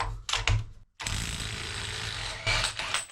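A Metabo HPT 1/2-inch mid-torque impact wrench rated to 250 foot-pounds loosens a fastener in an auto shop: short loud bursts of rapid mechanical hammering with a brief gap, then a sustained rattling run.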